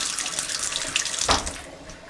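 Water runs steadily from a tap at a camp's water system, a close, continuous gushing flow with a brief louder surge near the end.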